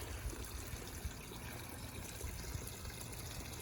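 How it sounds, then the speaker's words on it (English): A small garden water feature trickles steadily, producing a soft continuous splashing and dribbling of water with no break and no voices. "Just a little look at the water feature."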